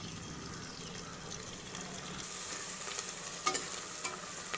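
Ground spice paste being stirred into onions in a hot pan for a South Indian egg biryani, a soft continuous sizzle with scraping stirs and a few sharper clicks of the spoon near the end.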